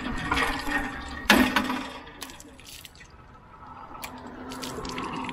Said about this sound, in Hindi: हम लोग चापाकल का पानी जो है वो भर रहे हैं।